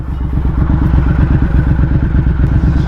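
Motorcycle idling through a new aftermarket exhaust, a loud, close, rapid lumpy burble of even pulses throughout, with no voices.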